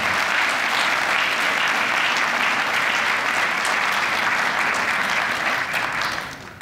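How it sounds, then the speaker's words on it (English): An audience at a speech by a chief rabbi in Rochester applauds loudly and steadily for several seconds, the dense clapping fading slightly at the end. "They all deserve a round of applause."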